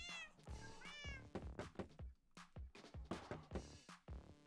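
A cat in Minecraft meows repeatedly in quick succession, several short, clear mews close up with little else around them.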